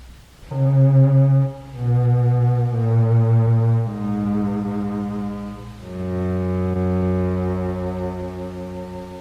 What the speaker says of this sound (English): I thought a cello-like sound was being produced by the electronic instrument